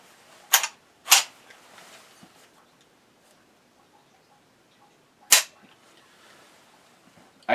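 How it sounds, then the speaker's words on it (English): Three sharp rifle gunshots at a shooting range, each a loud crack with a short tail, spaced irregularly with a faint fourth at the very end; no talking. "I cannot believe what a absolutely solid rifle this thing is."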